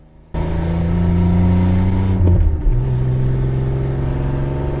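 The engine of a Ranger truck running rich and unable to idle catches and drones loudly and steadily, stumbles briefly midway, then settles into a lower, uneven hum.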